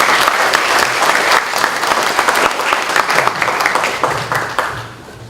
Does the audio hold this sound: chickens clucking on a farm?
no